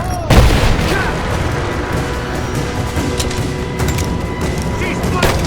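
Gunfire and booming shots in the video game Rise of the Tomb Raider, a loud burst up front and then dense, continuous combat noise with scattered pops and shouted voices mixed in.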